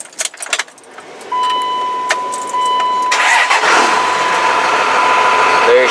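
A Cummins diesel truck engine cranks and fires after some keys jangle. It settles into a steady, loud idle up close, with a faint tone running through it. A voice speaks briefly near the start.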